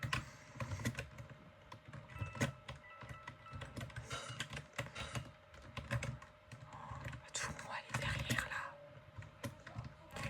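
Computer keyboard typing during a gaming session, a steady run of quick clicky keystrokes close by that continues the whole time with a constant background hum.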